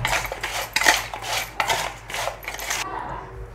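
A spoon stirs jackfruit pickle with oil and spices in a metal bowl, making repeated clinking, scraping strokes in an uneven rhythm, close and fairly loud before the sound fades away.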